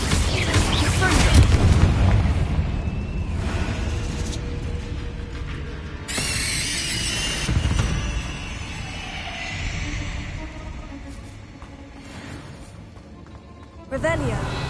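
Spell blasts and bursts of Confringo, the fire-curse from Hogwarts Legacy, crackle through a dungeon trial, several booming hits with mechanical clatter, strongest around the middle and again near the end, over game music and voices.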